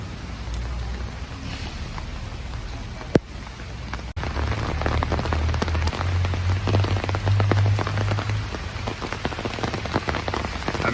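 Steady rain pours onto a quiet city square in central Florianópolis, a dense, even hiss of drops spattering hard surfaces, with a sharp knock and a brief dip partway through and no voices.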